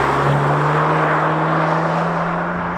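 A Renault Megane RS Trophy-R hot hatch being driven fast gives a loud, steady engine drone with a strong low hum and broad rushing road and wind noise that holds throughout, without any talk.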